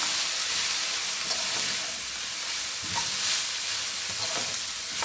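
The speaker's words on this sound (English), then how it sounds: "So I'm putting in the mushrooms and the courgettes, and I'm going to put in about half of the spring onions." Mushrooms and courgettes with spring onions are stir-fried in a hot pan. A loud, constant sizzle carries soft scrapes and clacks as the vegetables are tossed, and no one speaks.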